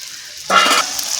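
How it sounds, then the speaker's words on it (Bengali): Fried potatoes drop into a pan of sizzling mutton curry, setting off a sudden, loud burst of frying sizzle that lasts about a third of a second, then settles back to a quieter hiss. "ভাজা আলুগুলো দিয়ে দিয়েছি।"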